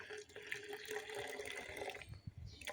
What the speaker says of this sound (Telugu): ఇలా స్ప్రే బాటిల్లో వాటర్ పోసుకుంటున్నాను.